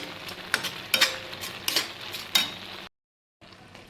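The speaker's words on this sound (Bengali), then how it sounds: "তো এইভাবে নাড়াচাড়া করে থাকবেন" A spoon or spatula stirs pumpkin halwa in a pan, giving a few sharp scraping strokes with a soft sizzle beneath them. A brief silence follows before the scraping resumes.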